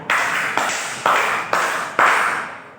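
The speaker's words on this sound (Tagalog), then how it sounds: "bigyan natin ng 5 palakpak ang" A group claps in unison five times, each sharp, full burst evenly spaced about half a second apart, loud and alone with no talk.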